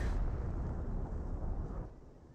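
Artillery barrage explosions in the Company of Heroes game form a dense, sustained low roar of overlapping blasts that fades out toward the end.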